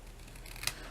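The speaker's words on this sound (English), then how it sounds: "Now I'm just going to take my scissors." Scissors cutting the ends of a ribbon for a homemade money pouch: a single crisp snip, close by, over a quiet room hum.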